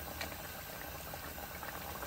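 Soft, steady bubbling of a Telangana-style mutton curry simmering in gravy in a pot, faint and continuous with small pops, no talking.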